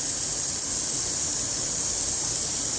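Cumin and mustard seeds sizzle in hot oil in a pan for bottle gourd curry, making a loud, steady, unbroken hiss from start to finish.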